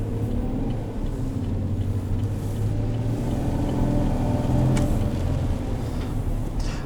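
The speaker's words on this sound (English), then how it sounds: "This six-cylinder does sound really good." A 2020 Chevrolet Silverado 1500 work truck with a six-cylinder V6 engine runs with a steady, loud low rumble throughout, with no talking over it.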